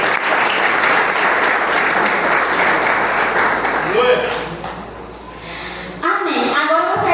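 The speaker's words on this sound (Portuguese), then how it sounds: "E a igreja pode aplaudir ao Senhor nesta noite" A church congregation applauds at an evening service, steady dense clapping that carries for several seconds before thinning out, with some voices mixed in near the end.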